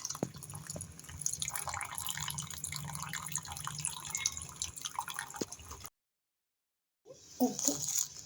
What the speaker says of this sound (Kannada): ತೊಗರಿಬೇಳೆ ಬೇಯಿಸ್ಕೊಂಡಿರೋಂಥ ನೀರನ್ನ ಆ್ಯಡ್ ಮಾಡ್ತಿದ್ದೀನಿ.